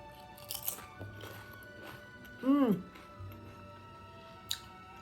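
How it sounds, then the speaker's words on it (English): Someone munches a crunchy snack food, a few soft, scattered crunches close to the mic, largely under a voice talking over them. "What are you munching on?"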